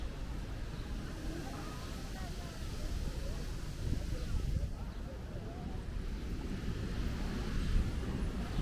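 Strong wind gusts of 60 to 70 mph ahead of a shelf cloud in Sunset Park, Brooklyn, roaring and buffeting an unshielded microphone continuously, with low rumbling gusts that swell and subside throughout.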